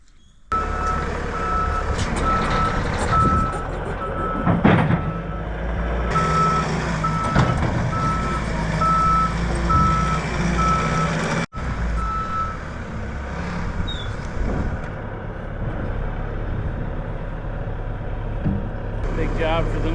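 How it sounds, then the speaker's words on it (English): A new skid loader digging up sod for a small gravel shed pad: steady, evenly spaced reversing beeps repeat over a rumbling diesel engine and scraping, then cut out partway through as the machine keeps working. "Big job for the new skid loader."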